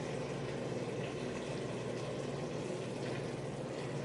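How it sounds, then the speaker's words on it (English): Soaked black beans going into a pot for Cuban-style beans: a continuous wet, watery pouring and sloshing rush, steady and close throughout, with no talk. "So we can put in our beans now"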